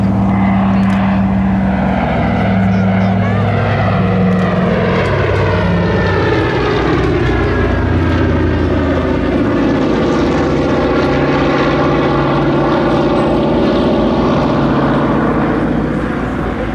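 A Consolidated PBY-5A Catalina amphibious flying boat, wingtip floats extended, passes at an airshow with a loud, steady twin piston-engine propeller drone that swells and shifts in pitch as it goes by.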